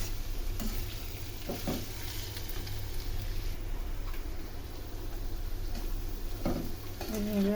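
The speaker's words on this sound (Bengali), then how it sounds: "এইভাবে আলুটাও সুন্দর করে ভেজে নিই" Potatoes frying in a pan, a continuous low sizzle with occasional scraping stirs and light clinks, fairly quiet and close.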